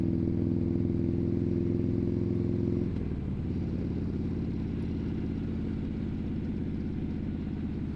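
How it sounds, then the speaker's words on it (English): A car's steady engine idles and hums in street traffic while a motorcycle goes by nearby, its mid-pitched engine note shifting partway through as it passes, loud and continuous with no talk. "I am definitely going to let the motorcycle pass"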